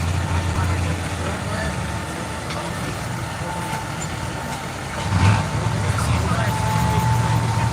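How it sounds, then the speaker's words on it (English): A two-wheel-drive truck engine runs at a dirt race track during a season championship night in Rockwell, Iowa, a low, steady rumble with a brief swell partway through, under announcer commentary. "That sounds like a two-wheel drive truck."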